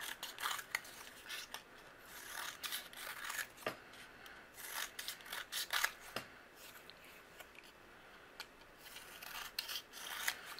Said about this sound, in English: then I'm going to trim down some thin strips